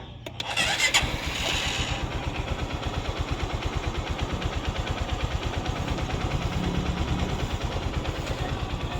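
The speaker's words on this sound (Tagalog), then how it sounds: "So paandarin natin, pakinggan nyo ang andar." A freshly overhauled Honda TMX Supremo motorcycle engine cranks and catches, then settles into a steady, even idle with a rapid regular thump, close and loud, with no talk over it.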